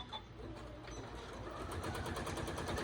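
A sewing machine stitches through hand towel fabric with a quiet, steady mechanical whir and rapid needle rhythm, running continuously and growing slightly louder toward the end.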